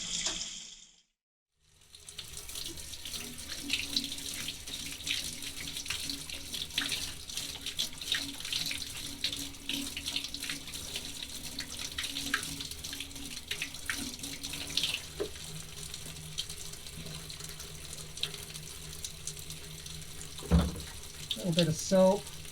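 A faucet runs steadily into a sink while a cheap throwaway paint brush is being washed, after a short silent gap at the start, with splashing changes and a few clatters near the end.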